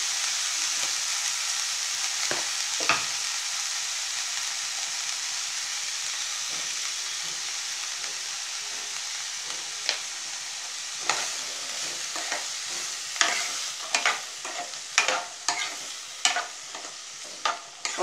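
Green beans hiss in a hot pan while a spoon scrapes and clacks against the metal, the stirring growing busier toward the end; close, steady sizzle throughout with no speech.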